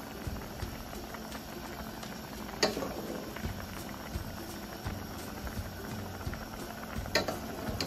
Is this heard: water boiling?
yes